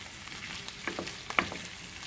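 Carrots and potatoes sauté in a pot with browned flour residue on the bottom, giving a steady close sizzle with a few sharp stirring scrapes and clicks, no talk.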